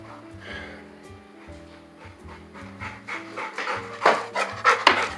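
A dog panting close by, quick rhythmic breaths that grow louder and harsher toward the end, over a low steady hum.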